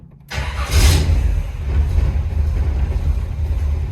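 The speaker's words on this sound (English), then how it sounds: "let's fire it up and see how it sounds." Cold start of a 1951 Chevrolet Styleline Deluxe rat rod with a Granatelli exhaust: a brief cranking burst catches into a loud, steady low idle rumble that carries on alone, with no talking.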